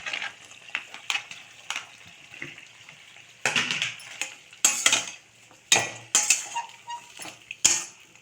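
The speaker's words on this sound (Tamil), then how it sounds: "இப்போ வந்து நம்ம இந்த புடலங்க கட் பண்ணி வச்சுருக்கோம் இல்லைங்களா இதை சேர்த்துக்கலாம்" Cut snake gourd pieces are tossed into a frying pan and stirred for a poriyal stir-fry with moong dal. Near, sharp clatters of a spoon scraping and knocking the pan come in uneven bursts over a soft sizzle.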